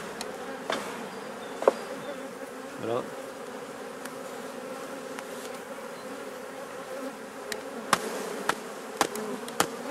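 Honeybees buzz steadily in a dense, continuous hum around an opened hive, with a few sharp clicks and knocks of hive tools against the frames and a brief spoken word near the start.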